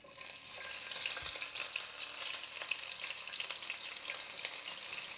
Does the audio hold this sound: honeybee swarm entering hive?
no